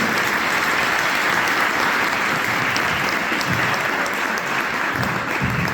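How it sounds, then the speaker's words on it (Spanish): Sustained audience applause fills the hall at the close of a conference talk at an international ufology congress, steady and dense throughout with no speech over it. "un fuerte aplauso para Luis Anino,"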